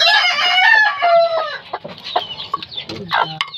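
A mother hen clucks repeatedly at close range, with several other gamecock chickens clucking and squawking in the background, loud and busy.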